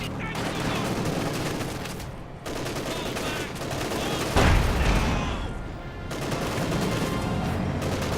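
Dense machine gun fire and other gunfire crackle steadily in a Company of Heroes 2 battle, with a heavier boom near the middle and a commentator talking over the action.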